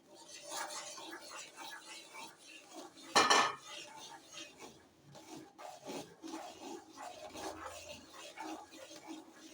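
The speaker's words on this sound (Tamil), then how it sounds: "ஒரு கையில் ரவாயை கொட்டணும், ஒரு கையில் கிண்டணும்." A metal spoon scrapes and stirs semolina (rava) in a pan for kesari, repeated scraping and clinking strokes with one sharp metallic clank, close and steady throughout.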